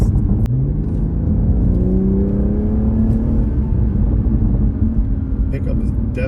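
Inside a Toyota GR sports car, the engine drones loudly and climbs steadily in pitch as the car accelerates, with people talking over the sound.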